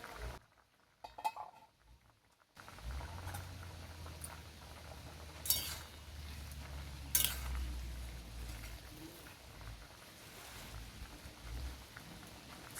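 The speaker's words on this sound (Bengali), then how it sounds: "এখন আমি চাপাটা খুলে দেখে নেব সেদ্ধ হয়েছে কিনা।" A lid comes off a pot of red lentils and jackfruit cooking on the stove, giving a couple of sharp metallic clinks over a low steady simmering rumble, with no one speaking.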